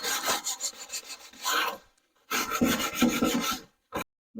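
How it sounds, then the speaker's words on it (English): Cut plexiglass edges being sanded by hand with 80 and 220 grit sandpaper: two bursts of close, rhythmic raspy back-and-forth strokes separated by a short pause, then one brief final rub, with no speech. "So take 80 grit and 220 grit sandpaper and sand the edges a little bit."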